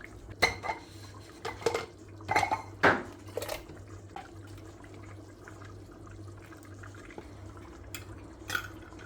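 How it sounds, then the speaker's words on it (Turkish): Hot menemen is spooned into glass jars, making a series of clinks and clatters of metal against glass, loudest early on and sparser later, over a low steady hum with no talking. "Ocağımı kapatmadan sıcakken kavanozlara dolduruyorum."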